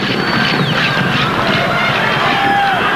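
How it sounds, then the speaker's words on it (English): A large football stadium crowd at a 1994 Africa Cup of Nations match between Nigeria and Zambia murmurs in a steady, loud, distant wash of massed voices, with faint whistles rising above the hum. "the crowd murmuring in sympathy there with Latana"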